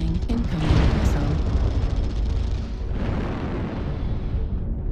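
Missile explosions in the MechWarrior Online video game: loud, dense booming blasts that roll together, with a heavy burst near the start, another surge around midway and a continuous rumble between them.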